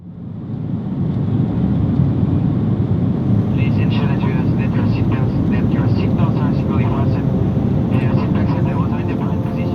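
A jet airliner takes off for Miami. A loud, steady engine roar with rumble and cabin noise runs from near the start and holds throughout, heard from inside the cabin.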